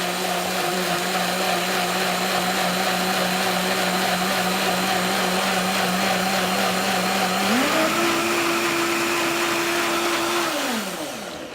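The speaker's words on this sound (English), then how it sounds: "now we just let the blender do the rest of the work" Countertop blender whirring through pesto made with olive oil, a loud steady motor drone that steps up in pitch partway through, then winds down as it is switched off near the end.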